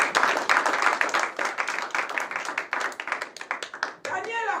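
A church congregation claps together during a Sunday worship service, a dense, steady run of hand claps that stays loud throughout, with a voice sounding briefly at the end.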